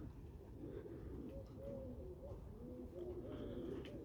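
Pigeons cooing in a pigeon loft, soft repeated coos overlapping at low volume against a steady background hum.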